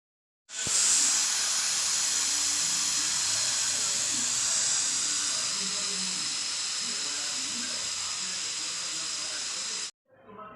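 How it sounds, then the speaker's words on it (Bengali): A pressure cooker cooking daliya releases a loud, continuous hiss of steam that holds steady for about nine seconds before cutting off abruptly. "প্রেশার কুকারে ডালিয়া বসিয়ে দিয়েছি"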